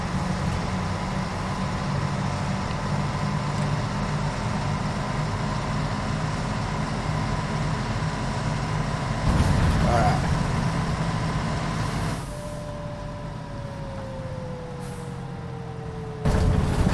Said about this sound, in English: So as I say, this is a pre-emissions diesel bus.